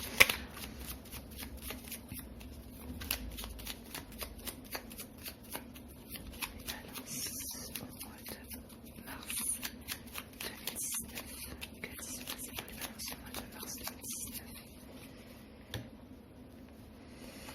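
Tarot cards being shuffled by hand, a steady run of soft riffling flicks and papery taps repeating for the whole stretch, close and fairly quiet with no talk.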